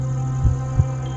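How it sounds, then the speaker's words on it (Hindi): A heartbeat sound effect plays as two soft, low thumps about a third of a second apart over a steady electrical hum. "कुछ खास नहीं, बस दिल के धड़कने की आवाज है।"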